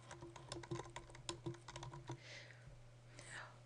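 Someone types the body of a letter on a computer keyboard in quick, uneven bursts of crisp key clicks, fairly close and quiet, followed by a pause with faint breathy rustle.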